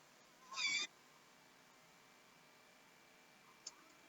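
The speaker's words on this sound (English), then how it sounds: "her meow is so stinking loud" A single loud, shrill meow from a nearby deaf cat, short and piercing, then near silence with a tiny chirp later.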